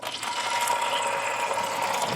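Bacon fat pops and sizzles in a hot pan as refried beans are being made, giving a steady loud crackling hiss with no talk over it.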